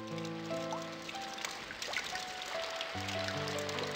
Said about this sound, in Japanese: ただの通り雨なんだね。